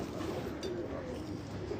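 Pigeons kept on a Karachi rooftop cooing in soft, repeated low calls over a continuous murmur, close by and fairly quiet.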